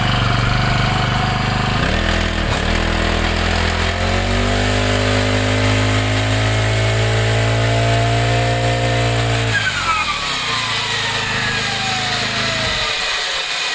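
Petrol brush cutter engine running just after starting, a loud buzzing two-stroke drone that rises in pitch as it revs up, then drops back toward idle near the end, close and with no talk.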